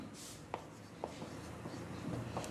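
Marker or chalk writing angle names on a board, soft scratchy strokes with small taps as each letter is formed, quiet and close against a faint room hum.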